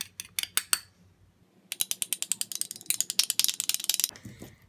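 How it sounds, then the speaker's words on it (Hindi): A fork mixes flax seed gel with vitamin E oil in a bowl, making rapid, crisp clicking taps in two bursts separated by a brief pause. "मैं यहाँ से फोर्क के साथ मिक्स करती हूँ।"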